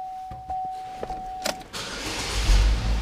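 A Chevrolet Equinox starts up: a short electric whine and a few clicks, then the engine catches and settles into a steady, fairly loud idle rumble.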